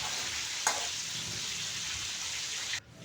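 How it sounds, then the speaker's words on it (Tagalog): Potatoes and carrots fry for chicken caldereta in a steady, dense sizzle that holds close and even for about three seconds, with one brief sharp crackle early on and a sudden cutoff near the end. "At siyempre isunod ko na rin pinariperito mga kabayan yung patatas at saka carrots."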